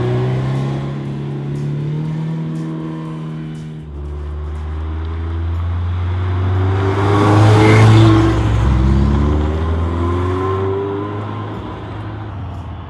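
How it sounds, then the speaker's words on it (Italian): A 1988 Ferrari GTB Turbo accelerating on the road, its engine note climbing through the gears in rising harmonic sweeps, with a brief lift-off before a louder, sustained pull that peaks and then eases. "abbiamo provato oggi questa fantastica macchina Ferrari GTB Turbo"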